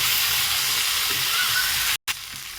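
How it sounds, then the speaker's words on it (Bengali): Chara pona fish fry in hot oil with a steady, close sizzle and hiss that cuts out briefly near the end, with no talking. "আমার চারাপোনা মাছগুলো ভাজা হয়ে গেছে"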